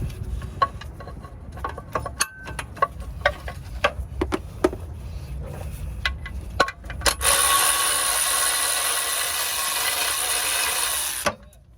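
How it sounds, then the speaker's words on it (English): Tools working to pull a torque converter off a 4L60E transmission at a junkyard: a string of sharp metallic clicks and knocks, followed by a loud, steady power-tool whir that runs for several seconds and then cuts off. "let's get this torque converter out of here"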